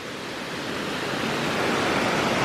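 Water pours over a small weir on the River Rheidol, a steady loud broadband rush that swells slightly toward the end.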